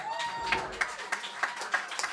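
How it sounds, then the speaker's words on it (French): Audience applause welcoming Michel Sigouin at a birthday special show for Morgan, with scattered claps standing out over a soft background murmur, moderately faint and steady throughout. "mon gars, viens-t'en, on l'applaudit."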